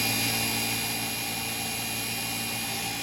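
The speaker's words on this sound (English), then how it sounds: "Let's clean it up on the grinder" A grinder cleans up a part on a rebuilt Ford tractor, a loud steady high-pitched whine held close and constant for the whole stretch, with no talking.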